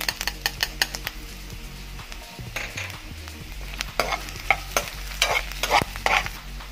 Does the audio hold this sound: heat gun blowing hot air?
no